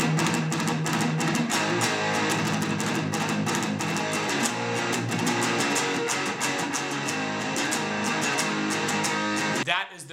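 A distorted electric guitar plays the galloping, palm-muted verse rhythm of a song, a loud, dense chugging pattern with quick repeated attacks that cuts off abruptly just before the end.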